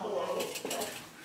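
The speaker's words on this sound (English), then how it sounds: "they've got pots and pans, everything we can use in the kitchen" Pots, pans and dishes clatter faintly in a hotel room kitchen, giving light metallic and ceramic clinks over a soft background murmur.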